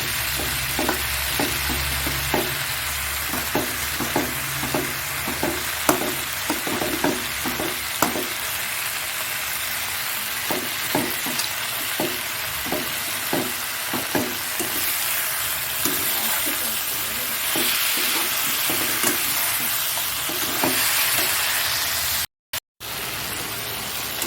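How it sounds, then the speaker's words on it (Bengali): Crab with tomatoes being sautéed in a pan, a continuous hiss of frying overlaid by a long run of rhythmic spoon taps and scrapes that fades into plain sizzling, with a brief dropout near the end. "কাঁকড়াটা সুন্দর কষিয়ে নিয়েছি"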